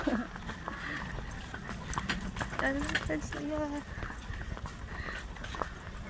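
Hooves of a ridden horse clip-clop on the ground at a nature camp, a steady walking rhythm of close knocks beneath excited voices and chatter throughout.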